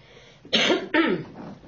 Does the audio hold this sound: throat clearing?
yes